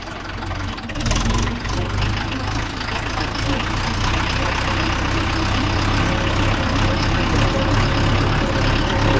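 A Mahindra Yuvo Tech Plus 585 DI tractor engine runs close by, a loud, steady low diesel drone with a rough knock that barely changes, with a voice speaking over it.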